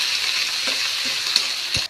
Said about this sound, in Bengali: আদা রসুনটা ভাজা ভাজা হয়ে গেছে পেঁয়াজটাও নেতিয়ে গেছে